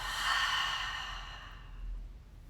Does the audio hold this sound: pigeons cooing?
no